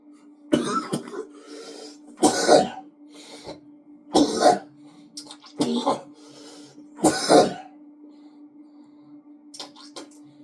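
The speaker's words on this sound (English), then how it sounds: "My cough is horrible." Several harsh, hacking coughs come in bursts a couple of seconds apart, close to the microphone, with a low steady hum behind.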